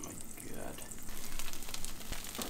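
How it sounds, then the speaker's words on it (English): Quesadillas with cheese sizzle and fry in pans, a steady crackling hiss close by with occasional scraping clicks, while people talk and react in the background. "Now we're gonna put cheese in them and cook them, whatever it's called, on the pans."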